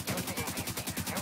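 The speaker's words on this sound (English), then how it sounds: "I hear gunfire." Rapid automatic gunfire in The Division 2, a steady burst of evenly spaced shots filling the whole moment, loud and close with no break between rounds.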